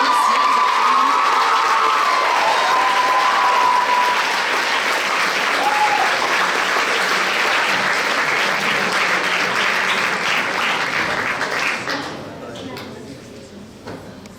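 Sustained applause from an audience at a regional science fair awards ceremony for a bronze medal winner, steady and dense with some cheering, fading down near the end.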